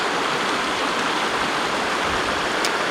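Loud, steady rushing of flowing river water, a continuous broadband roar close by with no pauses.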